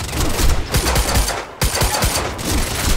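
Rapid automatic gunfire in the shooter game Quantum Break, dense bursts of loud close shots crackling continuously with a brief gap midway, no speech over it.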